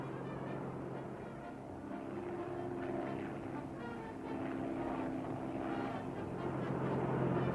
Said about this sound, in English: The pilot holds the plane steady until he's in position.